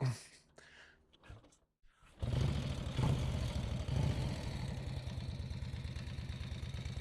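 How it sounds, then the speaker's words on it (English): A 1939 Brough Superior SS100 motorcycle is kick-started after a couple of quiet mechanical clunks, then its engine catches and runs at a steady, close, throbbing idle for the rest of the clip. "We come around to the right hand side of the bike, flip out the Kickstarter, grab hold of the throttle."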